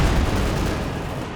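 Strafing-run gunfire in the Company of Heroes 2 strategy game, a dense, continuous rumble of rapid shots and booms that holds steady and loud throughout.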